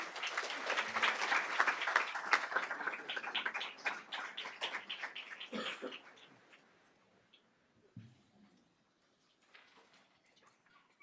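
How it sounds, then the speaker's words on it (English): Round of applause in a school district boardroom, a room full of people clapping loudly at first, then thinning out over several seconds to a few scattered claps and quiet. "So let's give them a round of applause as well."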